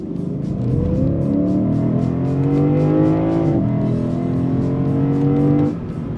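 A throaty V8 engine in a Lexus IS 500 F Sport Performance revs hard as the car accelerates, pitch climbing, dropping sharply at a paddle-shifted change into second gear, then climbing again before easing off. Loud and close.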